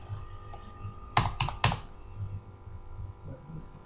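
Keys on a computer keyboard click in a short burst of three or four sharp taps, close by, over a steady low background hum, with quiet stretches before and after.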